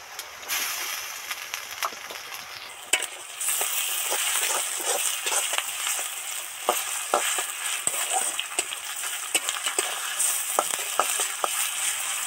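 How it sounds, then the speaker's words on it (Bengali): Ginger garlic paste frying in hot oil with softened onions for a Bengali jackfruit kalia, a steady sizzle with scattered pops and stirring clicks throughout, close and continuous with no talk. "পেঁয়াজগুলো সব সফট হয়ে গেছে। এবার এর মধ্যে এই আদা রসুনের পেস্টটা দিয়ে দিচ্ছি।"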